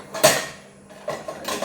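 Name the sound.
aluminium idli vessel dropped on the floor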